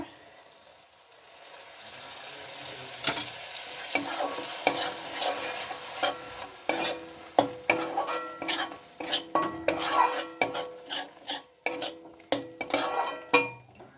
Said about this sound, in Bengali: এবার দেব পোস্ত বাটা।